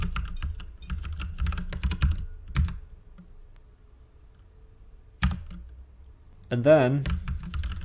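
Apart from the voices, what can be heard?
typing code on a computer keyboard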